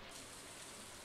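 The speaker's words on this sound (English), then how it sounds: "Oh, thank God it's raining." Rain falling in the farming video game Stardew Valley, a steady soft hiss of broadband patter, faint and even throughout the brief moment with no talk.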